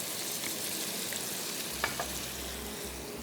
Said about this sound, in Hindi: साथ ही ऐड कर देते हैं लहसुन और अदरक का पेस्ट